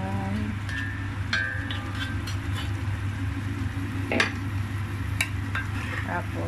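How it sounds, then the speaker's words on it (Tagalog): Fermented soya beans are stir-fried in a pan, giving a steady sizzle beneath a low hum, with scattered scraping stirs and light clinks of utensil against pan. "Stir fry."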